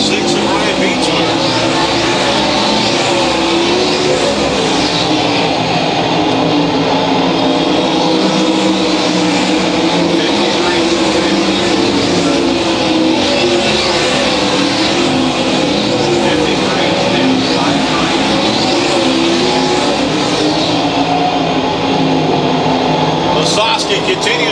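Sprint cars in an ASCS Warrior division race at Lakeside Speedway roar through lap traffic, a loud, continuous engine howl rising and falling as they pass, under an announcer's commentary.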